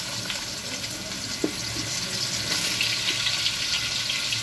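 Potatoes frying in a pan of hot oil, a dense continuous sizzle and hiss with a few small pops, close and fairly loud.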